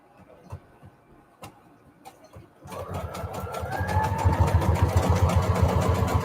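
A sewing machine stitches a zigzag across an index card, starting after a few faint clicks and settling into a steady, close, rapid needle rhythm that grows louder and continues to the end.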